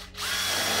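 A power drill with a combined drill and countersink bit spins up and whirs steadily at close range, a continuous high-pitched motor whine with no talking.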